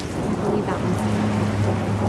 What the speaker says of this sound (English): You want me to lower my epic rain sound?